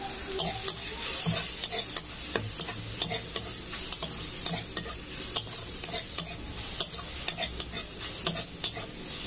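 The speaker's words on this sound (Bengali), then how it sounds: "এই মশলার কাঁচা গ্যাসটা চলে যাওয়ার জন্য একটু কষে নেবো।" Spices and green chillies sauté in a pan for Bengali sour koi fish curry, with rapid rhythmic spoon stirs clattering over a continuous sizzle, close and fairly loud.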